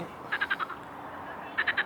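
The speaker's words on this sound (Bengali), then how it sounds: "নদীর ধারে ব্যাঙ ডাকছে না কি ডাকছে বুঝছি না" Frogs croak on the bank of the Volga River in two short bursts of rapid, rattling calls, a few pulses each, at moderate distance over a steady outdoor hum.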